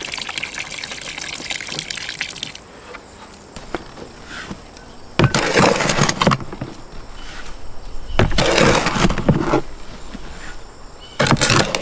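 Masonry compound being mixed by hand for a limestone foundation, bursts of gritty scraping and churning in uneven surges between quieter stretches, close by with a faint high ringing in the background.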